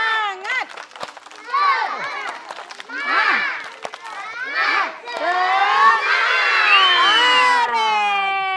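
Kindergarten children at a school stage event in Banda Aceh doing a group spirit clap, a dense mix of young voices shouting and chanting together with clapping mixed in, loud and lively throughout.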